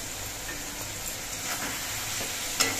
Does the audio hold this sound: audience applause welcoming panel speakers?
no